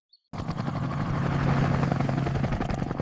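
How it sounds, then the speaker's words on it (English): A noisy government drone flies over a hot farm field, its loud, steady whirring buzz starting abruptly after a brief silence and holding constant. "this new government drone is a bit noisy"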